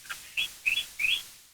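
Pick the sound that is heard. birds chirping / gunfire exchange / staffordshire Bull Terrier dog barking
birds chirping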